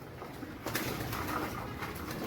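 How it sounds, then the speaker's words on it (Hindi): Two pigeons perched together on a net, giving soft, low cooing calls with a faint rustle or flutter, fairly quiet against light background noise. "जाल पे 2 कबूतर इकट्ठे ही आके बैठ गए हैं"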